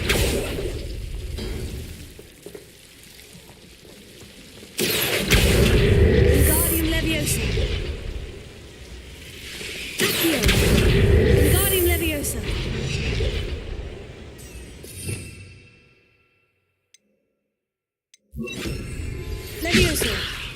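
Bombarda and Confringo spell blasts in Hogwarts Legacy, heavy booming bursts with rumbling tails that hit in repeated waves over game combat noise, with a short silence before a final blast.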